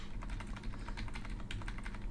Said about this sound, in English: Shuffle everything.